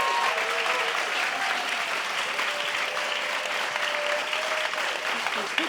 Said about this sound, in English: Let's have a round of applause for Wolf Ella.